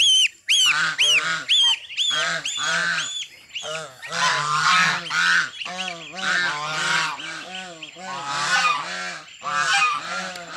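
Bengal geese roaming free in a mountain village let out loud, repeated honks, several birds calling over one another in a near, continuous chorus with no talk.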